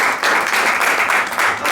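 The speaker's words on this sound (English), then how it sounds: "Can we have a big round of applause for my special" Applause from a comedy festival audience, a loud, dense burst of clapping close up with no talk over it.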